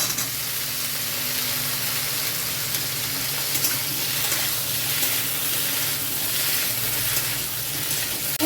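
Tomato and taro fry in hot oil with a loud, dense, continuous sizzle that stays steady and close throughout, with no voices.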